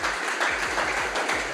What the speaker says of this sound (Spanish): Si va a aplaudir, hágalo con gozo para Dios.